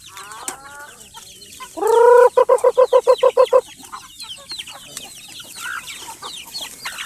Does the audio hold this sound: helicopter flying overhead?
no